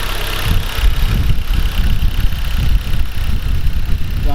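Dodge Caliber SRT-4 engine idling steadily and quietly after an oil pump repair, a close, even low rumble with a constant hum throughout and no speech.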